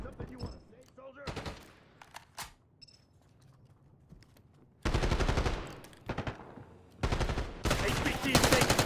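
Bursts of automatic gunfire from Call of Duty: Black Ops 6, coming in dense, loud volleys separated by quieter stretches with faint mechanical clicks, and growing heavier toward the end.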